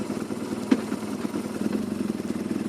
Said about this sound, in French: Il n'y a pas trop de vibrations, c'est un moteur qui vit bien.